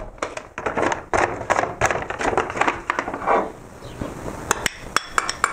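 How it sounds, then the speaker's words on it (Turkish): Minced meat goes into a pot with softened onions on the stove, with a burst of sharp metallic clanks and scrapes of a utensil against the pot, close and irregular. "Şimdi kıymayı ilave ediyorum."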